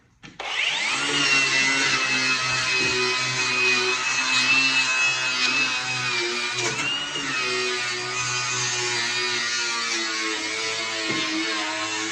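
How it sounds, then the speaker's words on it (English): A power tool polishes a steel steering column from a Foxbody Ford, giving a steady, loud grinding whine with a high ringing tone that holds for the whole stretch, and no talk. "Let's just try polishing."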